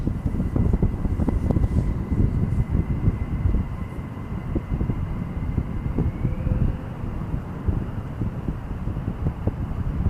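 Jet aircraft operate at night around RAF Lakenheath, producing a steady, loud, broadband roar that persists throughout with gusty microphone wind buffeting and a faint rising whine partway through.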